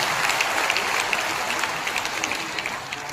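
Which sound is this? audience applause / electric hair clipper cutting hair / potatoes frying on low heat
audience applause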